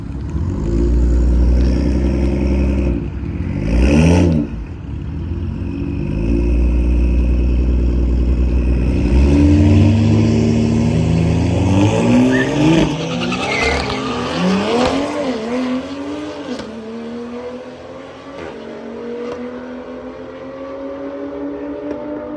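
A Cadillac CTS-V and a Toyota Supra drag racing at Orlando Speed World: loud engines rev and roar, tires briefly squeal on launch, then the cars pull away and fade into the distance.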